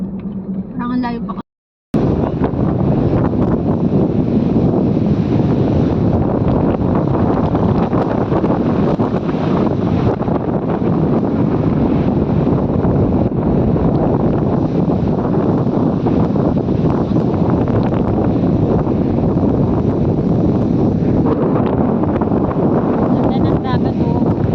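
Strong wind roars across the microphone on the Ilocos seashore, a steady loud rush blending with surf, with voices talking under the noise after a brief cut near the start.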